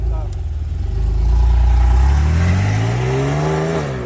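A Porsche 911 GTS engine revs up loudly and close as the car is moved, climbing and then settling into a steady drone that drops slightly toward the end.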